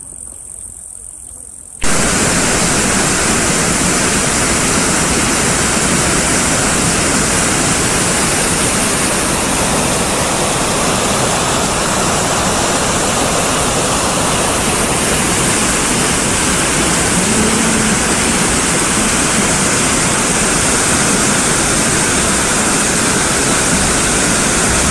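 Rushing river water in heavy flood in Buryatia, a constant loud roar that starts abruptly and continues unbroken and close for the whole stretch.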